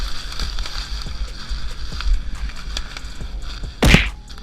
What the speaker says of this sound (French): ce que tu viens d'entendre, c'est le contact direct avec un arbre